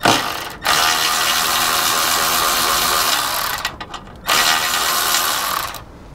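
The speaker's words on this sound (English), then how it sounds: "We're gonna pop off this 15mm down here at the bottom." Ratchet loosening a 15mm bolt on a vehicle's control arm: loud, close, rapid clicking in two long runs, separated by a short pause with a few scattered clicks.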